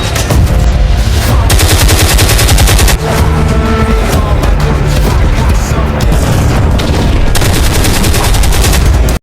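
Loud, rapid gunfire from an Armalite rifle rattles in dense automatic bursts with heavy booms, nearly continuous and very close, with a brief break around a third of the way through.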